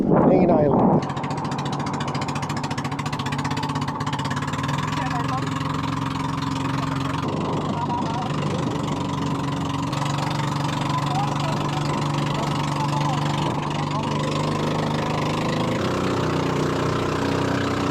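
A boat engine idles steadily near the shore at Mantigue Island off Camiguin in the Philippines, a continuous mid-pitched drone holding level throughout, close and fairly loud after a brief louder bump at the start.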